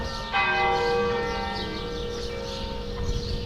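Early morning church bells in Malta, one rich ringing strike with a long sustained hum fading under faint outdoor ambience.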